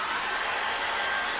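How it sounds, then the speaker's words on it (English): A hair dryer blows steadily over an acrylic seascape painting, a loud, close, continuous whooshing whir with no breaks and no talking. "Tell you what I'd like to do is really dry that off a minute."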